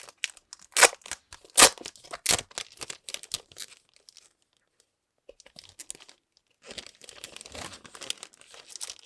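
A package of vellum paper is unwrapped with loud, close crinkling and tearing bursts, then a quiet pause, then a longer spell of softer, steady rustling crinkles.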